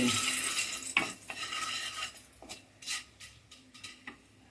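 Asafoetida and a bay leaf are stirred in hot oil in a pan, soft sizzling under several distinct scraping strokes of a spoon, spaced irregularly and close by.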